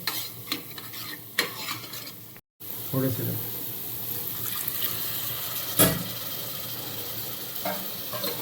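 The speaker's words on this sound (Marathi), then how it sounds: "हे सर्व आपले सुके मसाले आता फिरवून व्यवस्थित मिक्स करून घ्यायचे." Dry ground spices for a Konkani-style masala being stirred in a pan, giving a steady scraping, rustling stir with soft sizzling throughout, broken by a brief cut and one sharper clatter midway.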